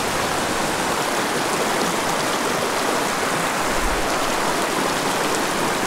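A small mountain creek full of cutthroat trout rushes steadily, a dense, constant wash of flowing water that stays close and even throughout with no voices.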